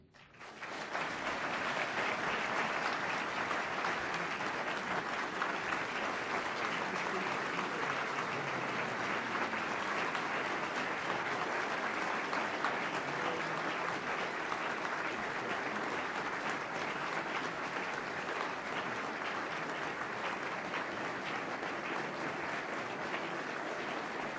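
An audience greets Bill Clinton at the Fulbright Prize ceremony with sustained, dense applause that swells within the first second and holds steady and loud for over twenty seconds without a break.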